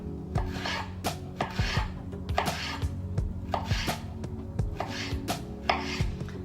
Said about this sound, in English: I find it's easier to kind of control the knife if you just drag it, the tip, along your cutting board.